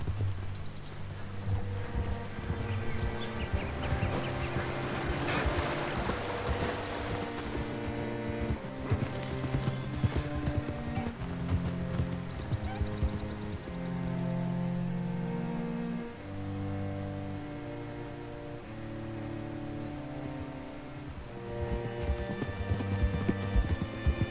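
Horse hooves clip-clop at a steady walking rhythm in the Red Dead Redemption 2 video game, close and clear, layered under a continuous musical score.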